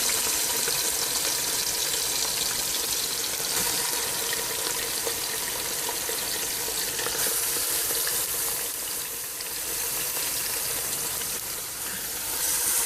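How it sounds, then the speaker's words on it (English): Fresh pork pieces go gradually into hot oil in a pan and fry with a loud, dense, unbroken sizzling hiss, close and steady throughout without speech. "Adding the pork gradually to the pan."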